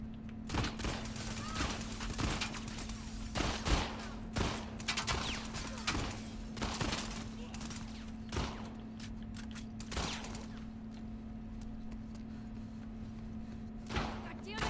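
Rapid volleys of gunfire from The Last of Us Part II, a string of sharp bursts and single shots spread across the stretch over a steady low hum, with a voice shouting briefly between the shots.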